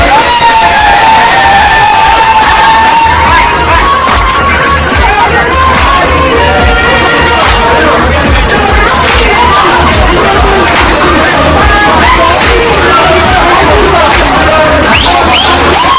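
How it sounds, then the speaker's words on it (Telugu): A packed crowd of passengers at Goa airport sings and cheers through a loud, continuous festive din while garba songs play on speakers, with steady rhythmic thumps beneath the dense babble. "వెంటనే స్పీకర్లు ఏర్పాటు చేయించి గర్భపాటలను ప్లే చేశారు"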